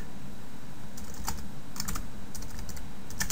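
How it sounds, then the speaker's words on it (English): Quick, light keystrokes on a computer keyboard sound close by in a quiet room, a steady run of soft clicks in short bursts. "I can type in something like watch the video"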